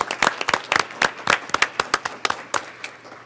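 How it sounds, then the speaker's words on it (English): An audience at a school board of education meeting applauds together, claps crackling in a fast irregular rhythm, moderately loud and sustained with no talking. "So can we give a huge round of applause for Nick?"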